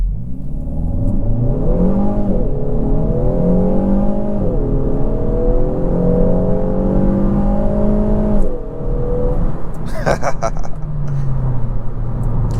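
A 2023 Kia Forte GT2 with a dual-clutch transmission, accelerating hard from a standstill in sport mode with traction control off, engine pitch climbing through several quick gear shifts, loud from inside the cabin with a voice speaking briefly.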